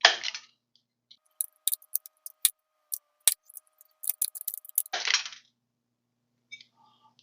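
Metal snips trim thin sheet metal for a model teardrop camper, producing a series of sharp, close cutting clicks and crisp snaps in irregular bursts, with two brief scraping rustles from handling the piece.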